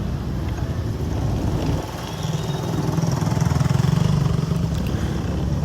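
Motorcycle engines idle and rumble in a city parking area in Tagbilaran City, Bohol, a steady close mechanical drone that swells slightly toward the end, with no talking.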